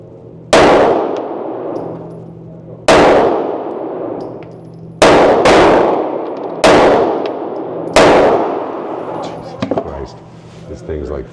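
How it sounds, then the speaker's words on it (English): Five CZ Shadow 2 pistol shots fired at steel targets 20 yards away, each a sharp crack with a ringing metallic clang that decays slowly, spaced unevenly a second or two apart. "Now we're going to shoot 5 rounds at 20 yards."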